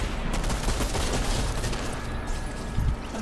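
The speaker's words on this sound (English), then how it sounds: "Somebody shooting me." Dense, continuous gunfire in Fortnite Zero Build, rapid overlapping shots forming a steady loud barrage throughout, with a heavier thump near the end and no voices over it.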